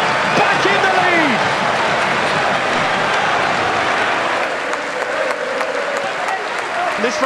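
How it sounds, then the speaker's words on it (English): A football crowd at Walsall's Poundland Bescot Stadium applauds in the 27th minute, a loud, sustained roar of clapping from the stands with scattered voices and whistles mixed in. "A round of applause in the 27th minute by all here at the Poundland Bescot Stadium."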